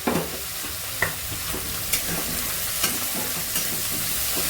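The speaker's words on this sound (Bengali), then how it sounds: "লবণ হলুদটা দিয়ে আবার একটু ভালো করে নেড়ে দিতে হবে।" Red amaranth greens and chopped eggplant sizzle in a frying pan while a spatula stirs them, scraping in several distinct strokes about once a second over a steady close fry.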